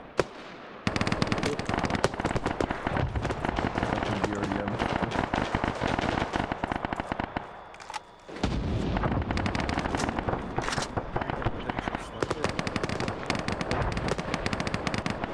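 Sustained ArmA 3 gunfire, dense rapid bursts and shots firing almost nonstop for most of the stretch, loud and close, with a brief lull partway through before heavy fire resumes, voices faintly mixed in.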